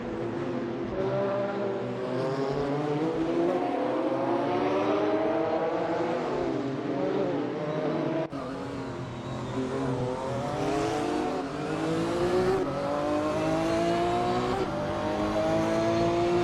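AI race cars roar around a circuit in a racing video game, engines whining and shifting pitch continuously as they accelerate, with one brief dip in the middle and steady loud revving throughout.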